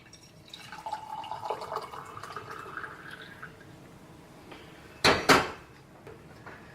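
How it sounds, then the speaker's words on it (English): Water pours into the metal bottom chamber of a stovetop espresso maker, its pitch rising as the chamber fills, followed by quiet handling and two sharp metallic clanks of the pot being set down. "what you want to do is you want to fill the water up to right at the bottom of that valve"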